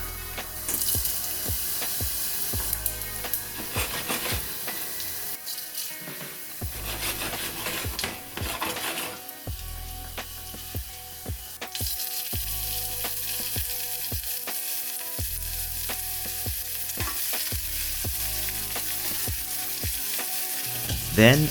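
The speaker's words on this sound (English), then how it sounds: "First, saute the spices and ginger briefly until it no longer smells raw." Spices and ginger sauté in a hot pan for mango chutney, giving a steady, close sizzle with repeated scraping and stirring clatter throughout and no talking.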